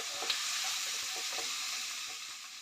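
Spices fry in a pan for a fish-head and basmati rice dish, giving a continuous bright sizzling hiss with faint stirring scrapes, steady and close, with no voices.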